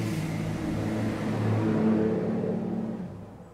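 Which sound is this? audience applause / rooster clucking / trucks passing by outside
trucks passing by outside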